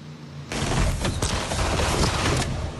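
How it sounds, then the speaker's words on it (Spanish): Gunshots ring out in a street in the Lo Espejo district, a dense, loud burst of rapid shots and cracks that lasts for about two seconds after a quiet start. "pasemos a escuchar parte del ambiente de estos disparos"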